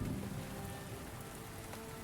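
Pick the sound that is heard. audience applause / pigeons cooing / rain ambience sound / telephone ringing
rain ambience sound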